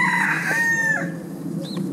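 A reddish Red Mottled breeding hen gives a loud, close, drawn-out squawking call, followed by a shorter rising cry.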